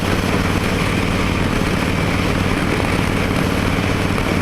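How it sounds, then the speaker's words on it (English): A Roadstar 1700 motorcycle engine runs with a steady, loud, continuous drone, close and unchanging. "Roadstar 1700. I love this bike. Big, comfy,"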